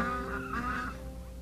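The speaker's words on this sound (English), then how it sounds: "A goose!" A single goose gives a short, hoarse honk up close, with no other sounds around it.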